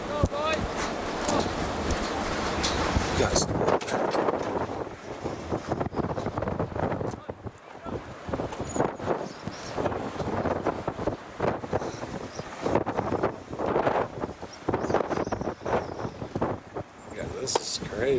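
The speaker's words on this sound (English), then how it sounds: "Man, is it windy, you guys?" Strong gusting wind buffets the microphone outdoors at a homestead, a loud, roaring rush that rises and falls while people talk over it.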